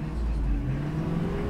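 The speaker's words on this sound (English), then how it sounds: "The vehicle is running right now." The engine of a 2001 Ford Expedition with about 120,000 miles idles close by as a steady low hum with a slight rise in pitch, and a voice talks faintly over it.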